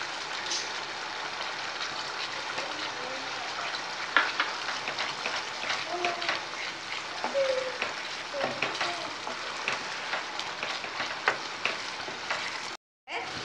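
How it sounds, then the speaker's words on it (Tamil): Tomato halwa with ghee is stirred in a pan as it thickens: a continuous hiss of frying with scattered scraping and stirring knocks, steady and moderately close throughout. "நல்லா கிண்டி விட்டுக்கிட்டே இருங்க."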